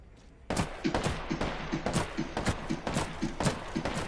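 A Hemlock rifle fires in Apex Legends: close, loud rapid shots in quick rhythmic bursts, about eight to ten cracks per second sustained over several seconds.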